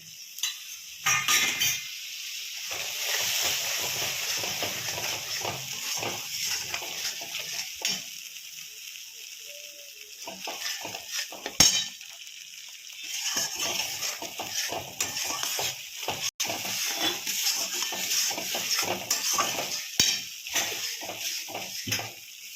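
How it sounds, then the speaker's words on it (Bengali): Spice paste mixed with yogurt and a little water is stirred and fried in a pan for a home-cooked Bengali potol posto dish, giving a steady soft sizzle with intermittent scraping of a spoon against the pan. "এখন খুব ভালো করে কষাবো।"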